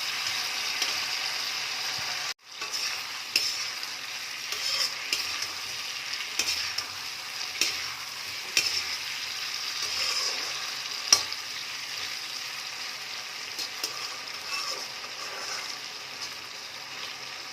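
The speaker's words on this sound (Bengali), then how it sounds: "এইভাবে এটাকে অনবরত এখন একটু ভাজা করে নেব। খানিকটা চিলি ফ্লেক্স দিয়ে দিচ্ছি" Chilli chicken fries in oil with chilli flakes for a restaurant-style dry dish, giving a steady close sizzle with scattered scraping and clicking stirs and one sharp knock early on.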